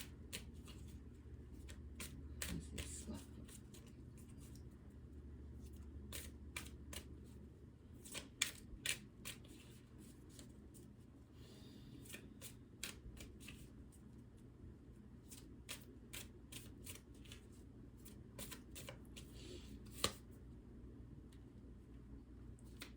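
A deck of tarot cards being shuffled close up, with repeated riffling bursts and sharp snapping clicks of cards landing, no talking.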